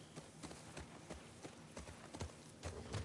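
In The Last of Us Part II, a ridden horse's hooves clip-clop in a steady, uneven rhythm of soft thuds, close and fairly quiet, with no talking over them.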